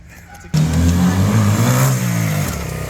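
A Honda mini bike's small engine starts abruptly and revs, its pitch rising and falling loudly up close before settling to a lower idle.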